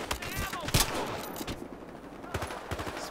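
Automatic gunfire from the Battlefield Hardline first-person shooter, rapid close shots with a sharp burst near the start, mixed with game effects and background ambience.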